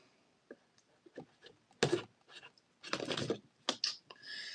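A small pepper knife slicing open a package, giving a few short scratchy cuts and rustles with a longer tearing stretch near the middle, close and fairly quiet.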